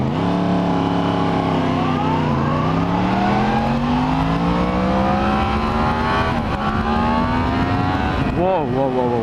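A 2017 Yamaha FZ-10 motorcycle accelerates hard, its engine note climbing steadily through the gears with a brief dip and a sharp rev near the end, loud and close, with the rider speaking over it.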